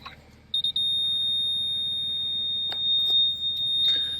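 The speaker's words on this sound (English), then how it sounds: "That's the oil pressure gauge that's doing that and making all that noise." A steady high-pitched electronic whine from the oil pressure gauge of a 1994 Subaru Impreza WRX, a barn-find car being restored, tone holding continuously near the listener after a few short blips, with some faint knocks and rustling behind it.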